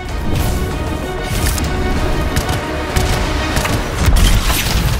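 Destruction of a hive in the video game Anthem: dense, continuous crackling blasts and booming impacts rumble for the whole stretch, with a heavier burst near the end, loud and close.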